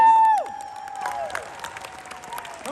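Scattered clapping from an audience at Schnauzer Fest 2023, following a fading tone and continuing as moderate, uneven applause.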